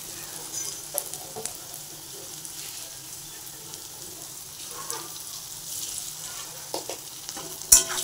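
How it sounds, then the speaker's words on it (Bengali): Cumin seeds sizzling and crackling as they are tempered in hot oil in a home kitchen, a steady soft frying hiss with small pops and a sharper clink near the end, no one speaking. "মাছ মাংস সব কিছুতে আমি একটু জিরাটা ফোড়ন দিয়ে নিই।"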